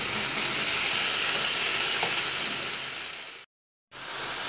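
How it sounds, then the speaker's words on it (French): Shrimp and vegetable sauce simmering in a pan gives off a steady, close, broadband sizzle. It runs without a break for about three and a half seconds, cuts to silence briefly, then resumes. "Je vais laisser mijoter pendant 5 minutes."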